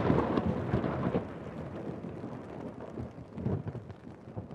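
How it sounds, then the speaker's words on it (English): Heavy rain falls outside at night in a horror short, a dense steady hiss with low rumbling swells, loud and continuous, with no voices. "I could hear rain coming down outside."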